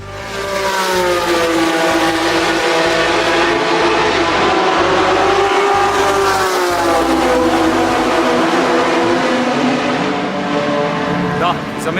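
Historic racing cars lap the Circuit de Barcelona-Catalunya at the Espiritu de Montjuic 2019 festival, engines droning and rising and falling in pitch as they rev through gears, loud and sustained.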